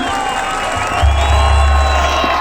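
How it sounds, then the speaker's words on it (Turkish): Crowd at an outdoor political rally for Istanbul mayor Ekrem İmamoğlu in Arguvan, Malatya, applauding and cheering in a loud, continuous roar, with a low rumble joining partway through and faint voices within the noise. "Hani o güzel alkışlar?"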